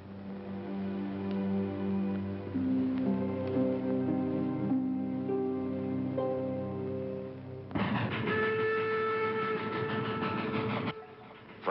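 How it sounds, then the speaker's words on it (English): Steam-era passenger train rolling along the tracks in an Old West setting, a steady loud rumble and clatter of railroad cars with tonal whistle-like lines, shifting to a brighter, harsher running noise partway through before easing near the end. "The train was moving right along."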